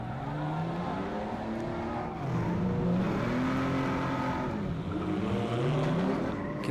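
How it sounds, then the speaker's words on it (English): Stock cars race around a speedway track in a teams race, several engines roaring and revving together with rising and falling pitch as they lap, loud and continuous. "the 92 car of Garnett gets pushed across the line, and he's still getting pushed by the 86"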